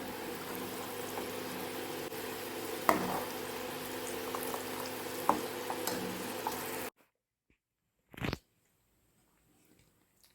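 Butter simmering into ghee in a pan on low heat, a steady fine bubbling hiss with a few soft clinks, which stops abruptly partway through, followed by near silence and one brief knock.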